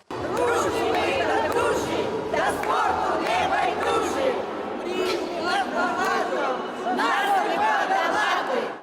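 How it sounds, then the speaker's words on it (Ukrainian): Supporters in the stands at a community sports event in Kremenchuk make a dense, steady crowd roar of shouting, singing and chanting voices, loud and continuous throughout with no pause. "Сидячи на трибунах, вони вболівали як могли, махали прапорцями, співали і плескали в долоні."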